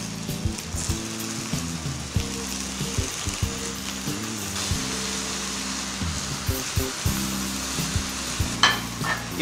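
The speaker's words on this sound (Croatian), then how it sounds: "I pržimo ih sa svake strane po 2-3 minute." Steady crackling sizzle of meat frying in a hot pan, continuous and close, with occasional soft clinks and scrapes.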